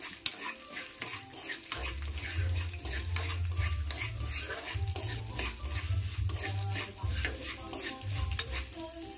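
Ingredients frying in a pan for amaranth-leaf chutney, with a spoon repeatedly scraping and stirring through a steady sizzle over a low background hum.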